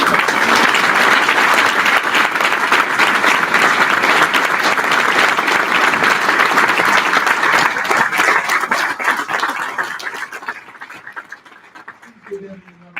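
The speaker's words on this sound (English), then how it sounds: "Give them another round of applause." Sustained audience applause at a prisoner-reentry graduation ceremony, loud and dense for about ten seconds before thinning out and fading near the end.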